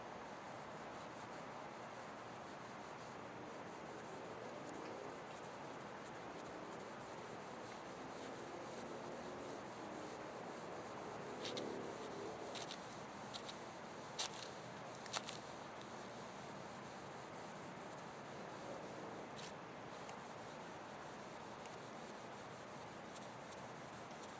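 Soft, steady rubbing of a cloth or pad over a glossy finish on a guitar neck, buffing it toward satin without sandpaper; a continuous faint swishing, close by, with a few brief sharper scuffs midway.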